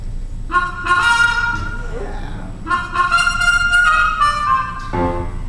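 Muted trumpet with a solo tone mute, played in 1920s style at a classic jazz tribute, sounds as clear, nasal sustained phrases with short gaps and a brief final run, moderately loud and close, with no talking.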